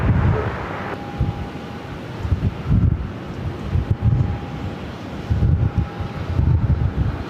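Strong wind buffets the microphone at Phoenix airport, with loud rumbling gusts surging and easing in waves over a low steady roar, and no voices.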